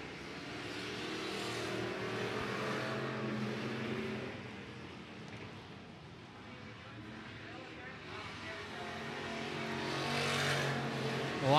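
Hobby stock race cars race at night at I-76 Speedway, engines roaring and swelling as they pass, revving louder toward the end, with an announcer talking over the noise.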